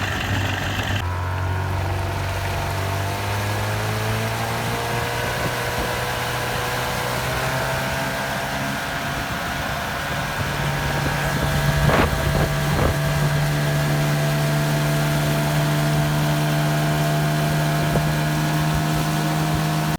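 A motorboat engine runs steadily on a lake during a test drive, its low hum constant and fairly loud throughout with wind buffeting the microphone and water noise around it.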